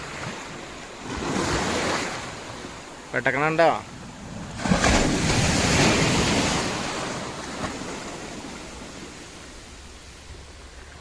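Sea surf on a beach where fishermen are hauling in a net, heard as a steady broad roar with surging crashes and wind, while someone speaks over it.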